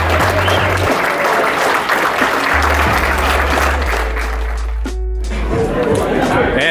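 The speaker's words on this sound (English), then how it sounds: "Let's give him a good round of applause." A crowd gives loud, sustained applause at a hypnosis show with a hockey team, with cheering and chatter under it and music playing beneath.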